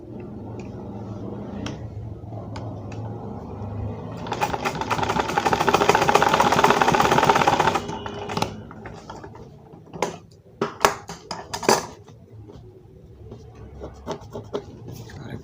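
A sewing machine stitches a fabric pocket, running in a sustained burst of rapid mechanical clatter for a few seconds, followed by scattered knocks, clicks and handling noises, close and fairly quiet.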